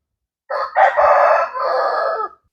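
A Nemali breed fighting cock crows once, loud and close, a single drawn-out cock-a-doodle-doo in rising and sustained segments against a quiet background.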